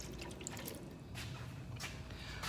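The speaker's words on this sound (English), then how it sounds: "half a cup of milk. Pouring that in." Half a cup of milk poured into a Ninja Speedi rapid cooker, a soft, close liquid stream with gentle splashing and dribbling that swells briefly a few times.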